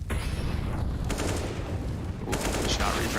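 Rapid gunfire from a Counter-Strike: Global Offensive pro match crackles in dense bursts of shots throughout, with a commentator's voice running underneath.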